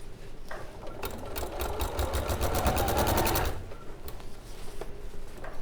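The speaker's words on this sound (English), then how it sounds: "I'm stitching about 1/4 inch away from the seam line." A sewing machine with a walking foot stitches a weekend bag about a quarter inch from the seam line, running in a fast steady close whir for a couple of seconds, then stopping, with light handling sounds after.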